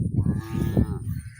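Cattle on pasture give a loud, close, drawn-out moo that swells and then fades.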